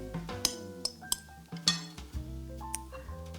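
Tuna, vegetables, brown rice and egg gently stirred together in a bowl, with a handful of soft spoon clinks and scrapes against the dish at irregular moments, close and fairly quiet.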